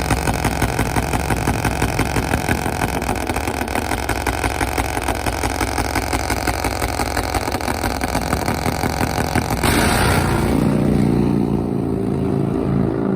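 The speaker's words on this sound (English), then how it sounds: "Let's see if the Nitro Harley of Greg Justice can lay down a number alongside Dustin" A Nitro Harley drag racing motorcycle runs at the drag strip, its engine giving a continuous loud, dense roar that suddenly drops off near the end, close up.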